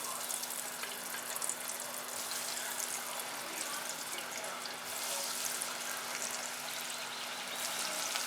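Onion rings fry in hot oil over a medium flame, giving a steady, dense hiss and crackle that runs evenly and close throughout, with no talking.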